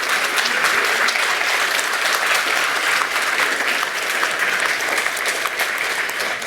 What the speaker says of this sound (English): can we give our trustees a big round of applause